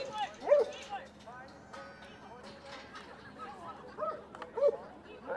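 A working sheepdog gives a few sharp barks while herding sheep at a yard dog championship, with bursts spaced across the moment and someone commentating throughout.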